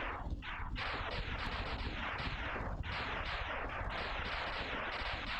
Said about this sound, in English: Wow, look at that explosion.